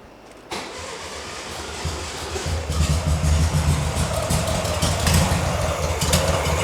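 A VW-based Ford Model T kit car engine with a bad carburetor catches after a quiet start and chugs unevenly on choke, running rich, growing louder with a lumpy, irregular idle close by.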